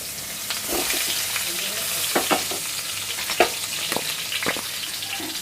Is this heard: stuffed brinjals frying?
yes